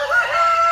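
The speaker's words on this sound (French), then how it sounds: "un magnifique coq nègre-soie argenté" A silver Silkie rooster crows in one continuous, fairly loud call with a clear sustained tone, close by and with no talking over it.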